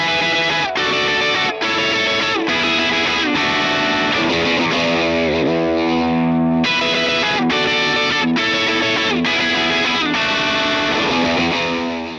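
Triumphant, heavily distorted electric guitar lead in the outro of a song, sustained and loud over a dense full-band backing, with a brief quieter dip midway before the band crashes back in.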